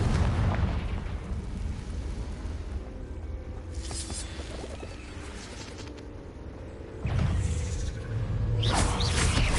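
Confringo explosive spell fired in a Hogwarts video game, heard as a deep rumbling blast at about seven seconds that swells over a steady low roar, with sharp bright crackles and softer bursts earlier in the scene.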